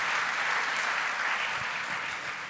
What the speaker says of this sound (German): Applaus bitte für Konstantin.